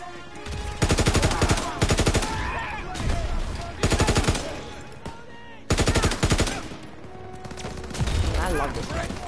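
Bursts of rapid automatic gunfire from a World War II weapon in the Call of Duty WWII video game, loud and close in three or four long strings with quieter action and a voice between them.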